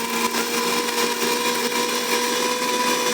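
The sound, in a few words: mixer grinder jar blending mango pieces for juice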